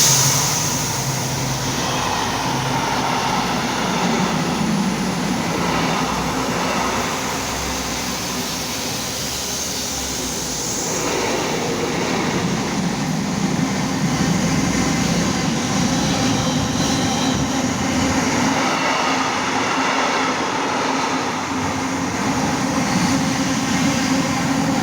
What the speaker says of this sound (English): So that was 70001 with that freight,